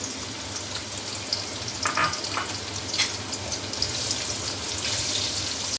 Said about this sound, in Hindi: ऑयल गर्म हो जाए तो इसमें एक बड़ा प्याज स्लाइस किया हुआ वो शामिल कर दें और इसको फ्राई कर लें